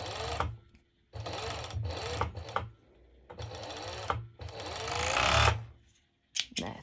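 A serger stitches over a bust seam on a sporty top in several quick bursts of fast mechanical whirring, close and clear, separated by short pauses.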